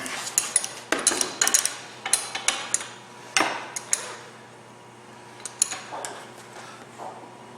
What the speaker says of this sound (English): I'm going to use a ratchet this time.